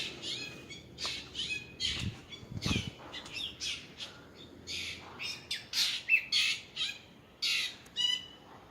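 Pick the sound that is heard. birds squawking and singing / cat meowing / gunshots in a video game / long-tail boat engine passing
birds squawking and singing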